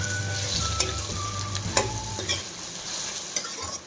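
Okra pieces sizzle steadily in a pan for a ladies finger dal, with a constant fry hiss and occasional scraping stirs and clinks of a spatula, close and fairly loud.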